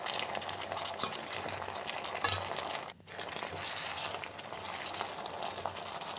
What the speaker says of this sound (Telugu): ఇవన్నీ బాగా ఫ్రై చేస్తున్నానండి.